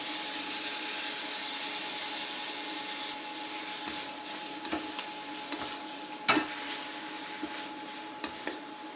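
Sauce and steak being stirred into a beef and snow pea stir fry, a steady sizzle with a low hum under it, and clinks and scrapes of the utensil against the pan.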